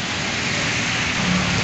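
Heavy rain pouring down in a steady, dense roar, loud and close, constant through the whole stretch with no voices.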